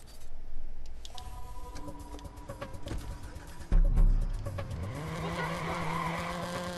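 A car in the Watch Dogs video game revs and drives, tires squealing and skidding in long bursts, engine loud and close with a sharp jolt midway.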